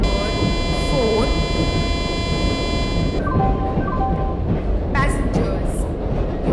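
In Indian Train Simulator, a passenger express pulls into a station platform with a steady rumble throughout, joined midway by a series of electronic chime tones from the station.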